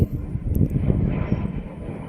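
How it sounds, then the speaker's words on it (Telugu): An Indian Airlines plane flies overhead near an airport, heard as a loud, broad low-frequency engine roar that rumbles steadily with some wind buffeting on the microphone. "ఇదిగోండి ఇండియన్ ఎయిర్లైన్"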